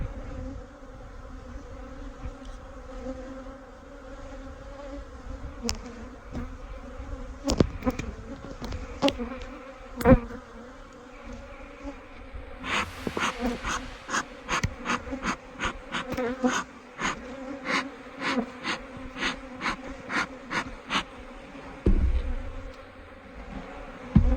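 Honey bees buzz steadily around an open hive during hive work for splits, with a dense insect drone and frequent sharp clicks and taps close by throughout.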